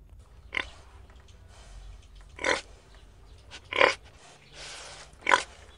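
A pig grunts and snorts four times at irregular intervals, fairly close, over a quiet farmyard background.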